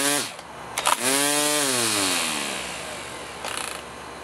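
A WORX 56V battery-operated grass trimmer runs up to speed with a rising electric motor whine, its pitch sweeping upward, then holds a steady buzzing hum at close range with no talking.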